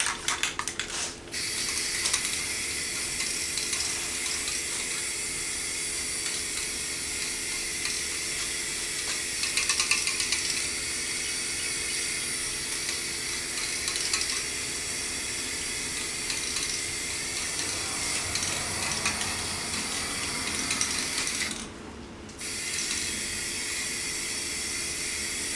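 Rattle-can spray paint laying a base coat on a Remington 700 30-06 rifle stock, a steady close hiss that runs almost unbroken, with a short pause near the end.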